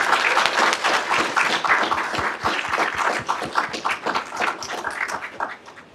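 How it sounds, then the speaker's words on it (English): An audience claps and applauds for a cohort of Champions for Change leaders, a dense, loud burst of many hands that holds steady and then thins toward the end. "can we give another round of applause to this amazing cohort of Champions for Change?"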